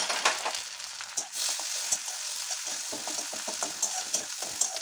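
Grated coconut frying in a pan for a Bengali borboti and prawn dish, a steady close crackling sizzle with small pops and spatters running throughout, no voices.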